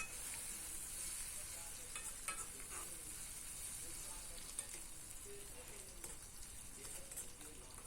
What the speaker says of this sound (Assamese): খুব সুন্দৰকৈ ভাজি ল'ম পিঁয়াজৰ সৈতে।